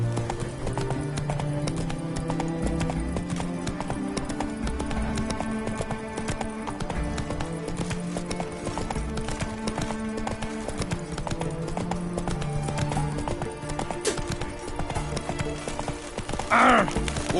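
Geralt's horse Roach gallops in The Witcher 3, a steady rapid clip-clop of hooves under continuous game music, with a brief whinny near the end.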